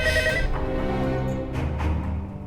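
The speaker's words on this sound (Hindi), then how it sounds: "फोन बज रहा है, कोई उठाने वाला नहीं है।" A telephone rings loudly and steadily inside a large house, with a harmonic bell-like tone that carries across the room and fades a little toward the end.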